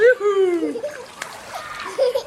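A child swims in a villa's outdoor pool, splashing water in short bursts while a voice and adult chatter sound close by.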